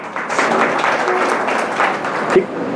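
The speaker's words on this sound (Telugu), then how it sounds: "చప్పట్లు కొట్టండి" An audience at a spiritual satsang gathering in Kanigiri claps hands, a steady, dense wash of applause sustained throughout at fairly close range.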